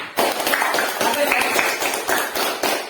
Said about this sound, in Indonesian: kita beri aplaus tepuk tangan untuk kelompok singa